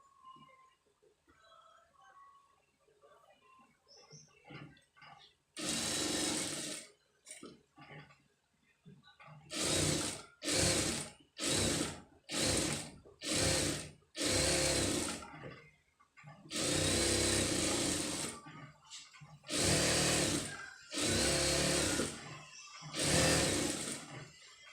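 Sewing machine stitching around a blouse neckline, running in bursts. A long run is followed by a string of short start-stop stitches, with quiet handling sounds in the pauses.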